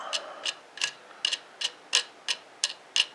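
A wing nut is turned down onto a bolt and washer on a homemade wooden buck saw, giving a steady series of close, light metallic ticks and clicks, about three per second, with no voices.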